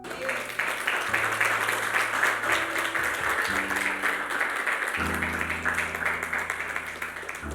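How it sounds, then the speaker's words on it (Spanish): A church congregation claps and applauds throughout a Spanish-language sermon, with steady applause heard alongside sustained musical tones from an organ or keyboard. "Denle un aplauso al Señor."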